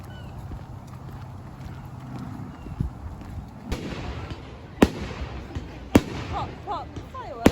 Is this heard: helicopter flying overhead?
no